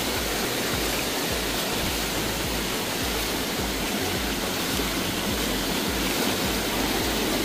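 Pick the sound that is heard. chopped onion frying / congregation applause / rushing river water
rushing river water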